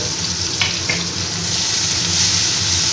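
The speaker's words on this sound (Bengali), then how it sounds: "পেঁয়াজ কুচিটা একটু ভেজে নেব" Thinly chopped onion sizzles in hot oil in a pan, a steady bright hiss with a couple of short stirring scrapes early on.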